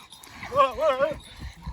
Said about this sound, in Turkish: harbiden çok güzel bir köpek